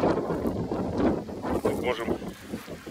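Strong wind buffeting and roaring across the microphone outdoors at a beach, gusting unevenly throughout, with water or boat noise mixed in.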